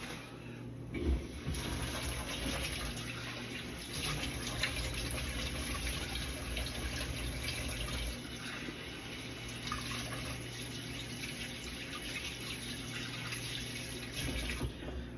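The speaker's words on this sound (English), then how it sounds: "I gotta wash my hands." A kitchen tap runs steadily while hands are washed during breakfast cooking, a constant hissing stream of water lasting about fifteen seconds with slight shifts in flow and no talking.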